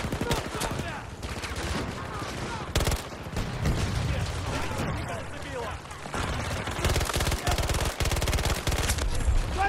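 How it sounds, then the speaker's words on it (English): SMG fire from Battlefield 2042 rattles in dense, rapid bursts nearly without pause, loud and close, mixed with other battlefield gunfire, and a player's voice occasionally cuts through. "long range kill with an SMG"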